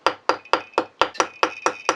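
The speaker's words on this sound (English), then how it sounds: "What we're going to do is just hammer the end of the silver wire" A hammer strikes the end of silver wire gripped in a vise with aluminium jaws, making eight crisp metallic blows in a steady, quick rhythm, close and loud with faint ringing between hits.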